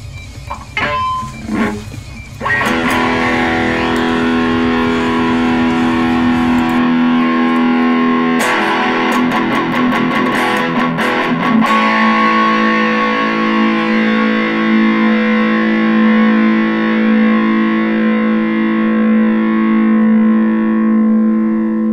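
Distorted electric guitar fitted with a Floyd Rose tremolo and heavy-duty brass claw, loud sustained power chords with a few scratchy muted strums, ringing out for long stretches without talk.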